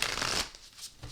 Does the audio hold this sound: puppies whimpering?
no